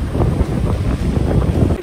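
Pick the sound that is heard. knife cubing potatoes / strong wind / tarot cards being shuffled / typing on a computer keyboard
strong wind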